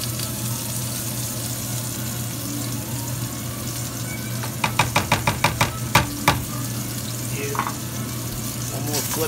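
Zucchini frying in a pan, a steady soft sizzle throughout with a quick run of clattering scrapes and taps as the pieces are stirred and flipped.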